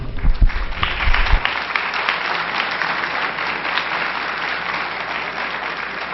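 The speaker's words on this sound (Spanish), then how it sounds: "aplauso" Dense audience applause at a Spanish-language talk on the culture of death, with a low rumble at the start, then steady broadband clapping sustained evenly to the end.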